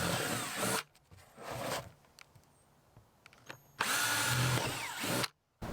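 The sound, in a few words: power drill drilling holes in a plastic bucket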